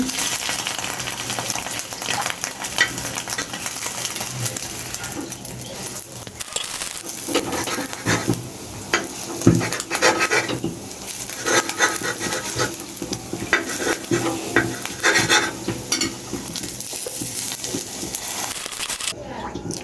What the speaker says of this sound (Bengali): এভাবে করে আমি আরেকটি ডিম ভেজে নিচ্ছি।